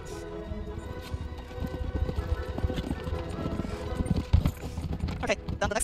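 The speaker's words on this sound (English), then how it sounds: "to get my horse into the saloon." A horse in Red Dead Online clops its hooves in an irregular rhythm, close and fairly loud, with a player talking over it.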